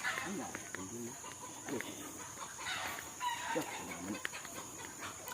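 Chickens cluck on and off at a moderate distance over a steady outdoor hum, with a few voices murmuring in the background.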